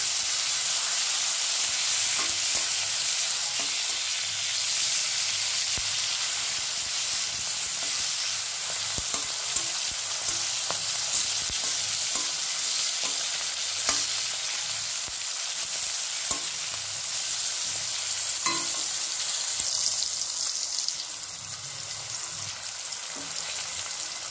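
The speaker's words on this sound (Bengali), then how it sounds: "আর এদিকে সিম ভাজাগুলো করে নিচ্ছি" Flat beans sizzle steadily in a hot frying pan, a constant crackling hiss with occasional clicks and scrapes of stirring, no voices.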